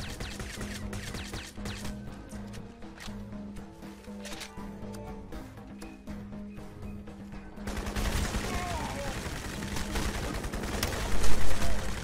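Gunfire in the video game Crysis, dense and continuous, with rapid shots and volleys that grow louder and harsher in the second half, with a brief burst of speech mixed in.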